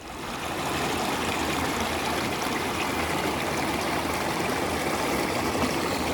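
A stream beside a hiking trail on the Pacific Crest Trail between Kennedy Meadows and Kearsarge Pass rushes steadily, a full, close, continuous wash of flowing water.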